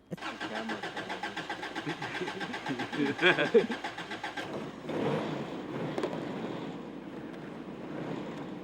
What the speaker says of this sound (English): He uses his old truck to gather firewood.